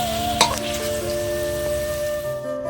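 Potatoes frying in a pan for a vegetarian soybean muitha dish, a steady close sizzle with a brief clatter near the start, no voices.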